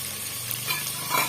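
Chopped onions and green chillies sizzle in a hot pan with a steady crackle while being stirred, close and moderately loud.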